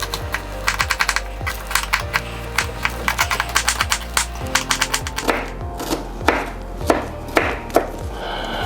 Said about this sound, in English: Show you how to cut these onions without getting your eyes messed up.